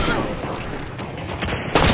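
Gunfire in the first-person shooter Hunt: Showdown during a trio match, a dense noisy stretch with a sharper burst near the end, heard over constant game ambience.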